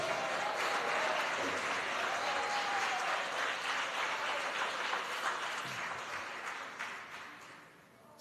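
A church congregation claps together in sustained, fairly loud applause that fills the room, holding steady before tapering off near the end, with no voices over it.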